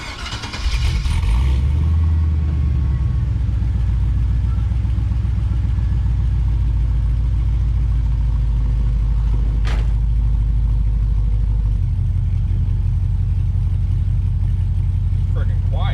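An LS-swapped 1988 Pontiac Firebird fitted with long tube headers and a full exhaust cranks and fires up, then settles into a loud, steady, low rumbling idle close by, with the idle note dropping slightly partway through.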